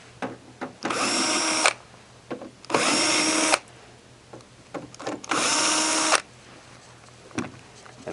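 A power drill backs out the screws of a Santa Fe compact blower in three separate whirring bursts of about a second each, with small clicks and taps of handling between them.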